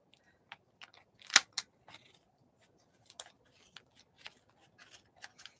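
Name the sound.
cutting the edge off a magazine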